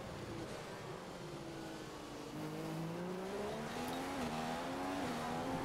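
Ferrari Formula 1 car in the racing game F1 2015 at the Canadian Grand Prix, a continuous engine whine rising and shifting in pitch as it accelerates, moderately loud with no talk.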